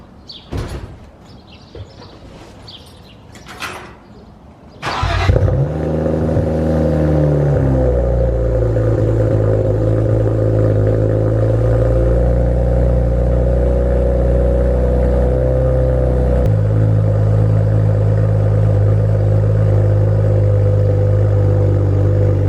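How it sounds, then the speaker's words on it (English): A car with a full custom exhaust fires up from cold after a few clicks and thumps, settling into a loud, deep, steady idle that rises briefly with revs and drops to a lower rumble. "First official cold start."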